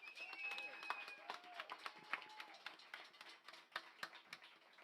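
A round of applause for the producer at a conjunto music event: scattered, faint hand claps crackle through the clip while people keep talking over them.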